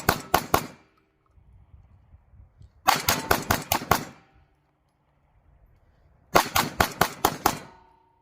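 Handgun fired with both hands at an array of targets on a shooting range: three rapid bursts of sharp, loud shots, about three, six and six in quick succession, separated by pauses.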